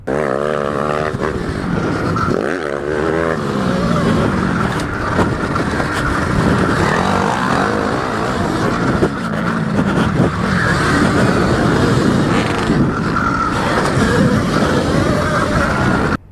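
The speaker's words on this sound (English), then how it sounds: "They can't believe it's an electric bike and it goes that good." Electric dirt bike ridden close by, a steady loud whirring motor drone with wind and terrain rumble that holds continuously throughout, with no pauses.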